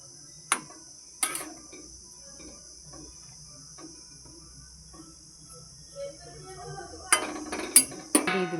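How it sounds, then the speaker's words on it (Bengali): Food stirred in a pot with a little water makes a few sharp clinks and scrapes of a utensil against the metal, sparse at first and then clustered near the end, over a steady high insect-like background drone. "নাড়া দিই যাতে সবার গায়ে জলটা লাগুক।"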